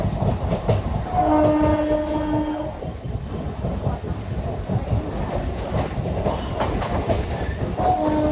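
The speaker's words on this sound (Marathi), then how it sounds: "आपली ट्रेन मस्त फटाफट टायमावर पोहोचते" Local train arriving at a station near Saphale, loud rumbling wheels and rail clatter with a sustained tonal horn or brake whine early on and another brief tone near the end, close by.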